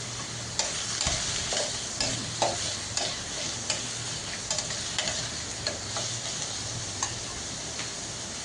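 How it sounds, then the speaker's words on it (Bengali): Onion sizzles in a pan before fish is braised, a constant close hiss broken by regular sharp clicks of a spatula stirring and scraping, with no talk. "এখন পেঁয়াজটা একটু ভেজে নিব"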